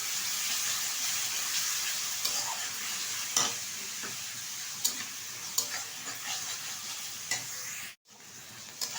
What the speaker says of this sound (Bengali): এক থেকে দেড় মিনিট মতো পেঁয়াজটা আমি নেড়ে চেড়ে নিয়েছি তেলের মধ্যে